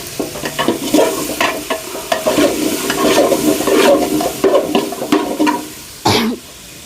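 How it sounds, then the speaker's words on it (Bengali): Large-batch cooking in a big pot: loud, close stirring scrapes and clanks over a constant frying sizzle, with a brief rough burst near the end and no speech. "রান্না শুরু হয়ে গেল।"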